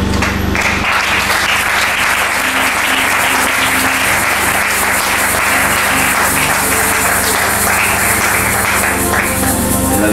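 A church congregation at a Pentecost seminar bursts into loud, sustained applause and acclamation for Jesus, a dense roar of clapping filling the whole stretch without letting up.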